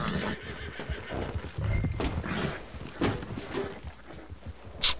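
Red Dead Redemption 2 horse sounds: a whinny over steady hoof clatter, with scattered thumps and crashes as objects are knocked over, fairly close and loud, no talking.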